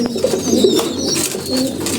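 Pigeons kept in a loft give soft, rolling coos in a continuous murmur, a couple of thin higher chirps drifting in from nearby.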